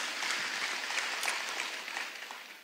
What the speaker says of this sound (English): Give the Lord a mighty clap offering.